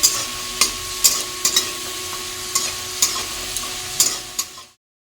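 Food frying in a pan on a gas stove, a soft sizzle punctuated by regular sharp clacks of a spatula stirring, ending in sudden silence.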